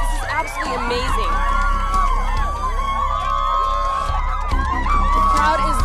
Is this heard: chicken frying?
no